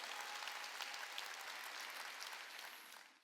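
A church congregation claps continuously during a Wednesday service, a dense wash of applause that fades slightly toward the end. The sound is faint and distant.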